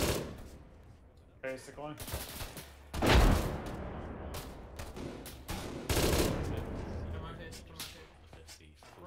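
Gunfire in ArmA 3, several sharp bursts and single cracks spread across the stretch, some loud and near, with people talking between the shots.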